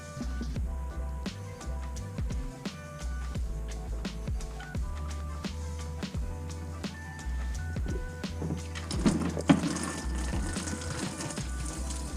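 Coolant gushes out of a Mazdaspeed 3 engine during cylinder head removal, a continuous splashing liquid flow over a low rhythmic hum, swelling into a louder rush near the end.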